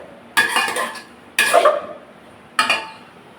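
A spoon scrapes and stirs drumstick and brinjal for sambar in a metal pan, in three separate rattling, clinking strokes with short quiet gaps between them.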